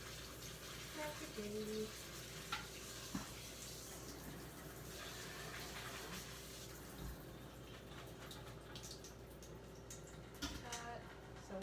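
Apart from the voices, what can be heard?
tap water running while washing vegetables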